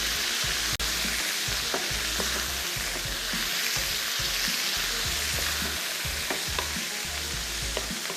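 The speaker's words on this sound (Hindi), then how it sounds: "और इसके साथ खूब अच्छे से चिकन को करना फ्राई" Chicken fries with small hot green chillies and chilli paste in a pan, a loud continuous sizzle close up with repeated stirring scrapes and knocks against the pan and no talking.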